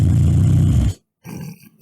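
Supercat, a sleeping character in Minecraft, gives a loud, deep, rumbling snore that holds for about a second, breaks off into silence, then resumes more softly.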